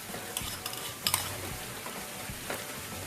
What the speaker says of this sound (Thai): เราก็ใส่ข้าวลงไปเลย ข้าวที่เราเตรียมไว้ คือข้าวไรเบอรี่ที่ใส่น้ำตาลแล้วเนาะ